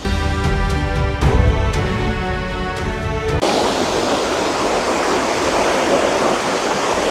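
Steady, roaring rush of Vasudhara Waterfall fills the whole stretch, loud and close, with a brief humming tone layered over it at first.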